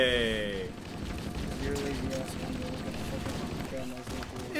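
Gunfire in Halo: Combat Evolved, rattling in clustered bursts amid game effects while a player talks excitedly over it.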